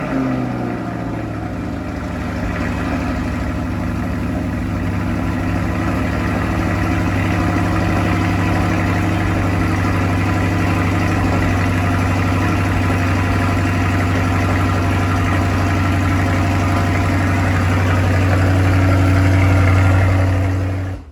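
A pre-production 2020 Chevrolet C8 mid-engine Corvette runs at a steady, close idle after a cold start, a deep, even engine drone that holds for about twenty seconds before cutting off.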